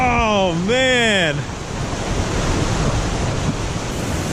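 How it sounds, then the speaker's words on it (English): A river waterfall rushes in a steady, loud broadband roar, briefly overlaid at the start by a singing voice before the water continues alone. "this right here is an awesome waterfall"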